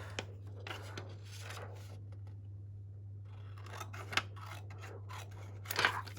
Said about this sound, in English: So I'm just going to try and cut this as straight as I can.